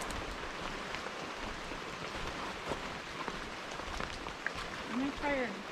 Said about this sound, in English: now it's like actually raining.